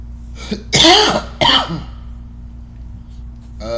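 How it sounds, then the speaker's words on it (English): Two harsh coughs in quick succession, close and loud, followed by quiet with a faint steady hum. "You probably might be hearing me cough"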